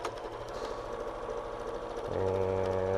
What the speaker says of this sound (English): Still throwing it under that sewing machine, quarter inch seam allowance all the way through here as well.